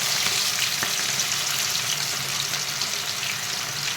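Chicken 65 pieces frying in oil over medium heat, a steady dense sizzle with crackling and bubbling throughout, close and continuous without any talk.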